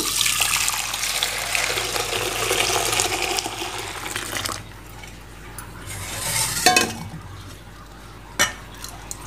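Milk and curd mixture being poured high and stirred to a froth for homemade curd, giving a splashing, sloshing stream for several seconds that stops, then a few sharp clinks of a spoon against a vessel.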